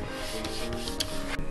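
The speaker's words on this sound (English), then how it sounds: "we take a little scrap here, we just kind of burnish the edges down so they're not so sharp" A scrap piece rubbed briskly along the edges of a leather belt to burnish them, giving a steady, dry, close-up scraping friction with a few sharper strokes and no voices.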